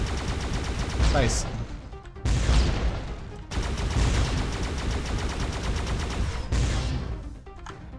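Rapid, dense gunfire from shooting in the video game Stellatum, with sustained loud bursts broken by brief gaps and a short spoken word over the shots.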